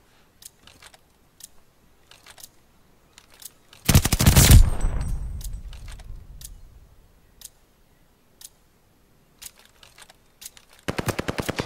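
A video-game round with ticking clicks and a loud blast near four seconds that decays slowly, then a quiet stretch of scattered ticks before a rapid burst of automatic gunfire closes it out.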